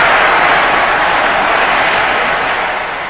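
A vast crowd roaring and cheering at Nasser's speech announcing the Suez Canal's reclamation, a dense, continuous wash of shouting and applause that holds loud for three seconds before beginning to fade.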